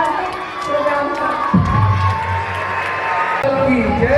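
A crowd at an evening stage event cheers and shouts in a steady, loud roar, while some children's voices rise above it and a voice comes through over a public address system.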